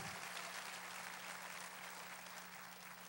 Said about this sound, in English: Give Jesus a mighty hand clap.